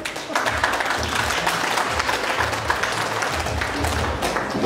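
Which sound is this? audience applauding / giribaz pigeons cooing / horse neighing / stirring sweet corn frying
audience applauding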